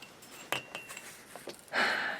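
A metal ruler is handled with a few sharp clinks and taps, followed by a brief broadband rustle or scrape near the end, close and fairly quiet.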